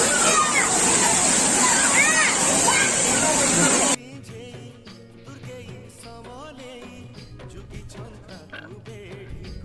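Bathers splash and play in a flowing stream at Nrusinghanath temple in Odisha, making loud continuous sloshing and rushing water for a few seconds before the sound drops to quieter ambience with voices.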